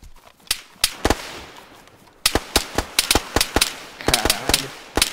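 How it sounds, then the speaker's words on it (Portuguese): Gunfire in the survival game DayZ: a string of sharp, loud shots, a few spaced apart and then a quicker volley of close cracks, with no talk over them. "Ó, o outro vai atirar!"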